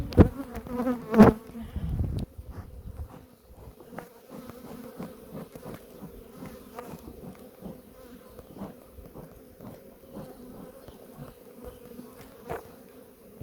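Bees drone around a lifted beehive in spring, a close steady buzz with a few louder knocks and handling noises at the start.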